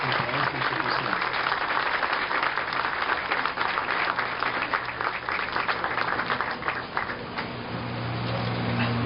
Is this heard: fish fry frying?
no